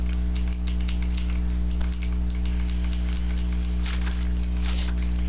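Computer keyboard keys clatter in quick irregular bursts during Fortnite play, crisp clicks over a steady low electrical hum, with no talking.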